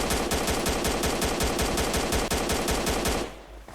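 Rapid automatic gunfire in the video game Escape Hell Island rattles off in one long, loud, evenly spaced burst of shots, then stops abruptly near the end.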